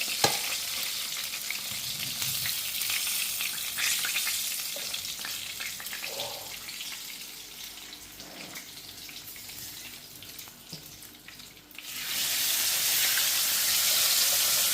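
Steady oil sizzle and crackle of fish frying over low heat, close and continuous, with occasional faint clinks; the sizzling swells louder near the end.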